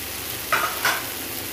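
Grated ginger fries in a pan under a steady low sizzle. Two short, sharp bursts of stirring or spattering rise above it, close and brief.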